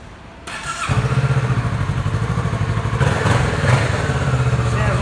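A 2020 Kawasaki Z650 motorcycle with an underslung exhaust idles close by, its steady low engine throb pulsing evenly after it catches, running loud and alone throughout.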